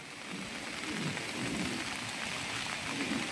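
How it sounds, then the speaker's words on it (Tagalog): Heavy rain pours steadily in Balayan, a dense, even hiss of drops striking surfaces with no breaks, close and constant throughout. "Sobrang lakas ng ulan."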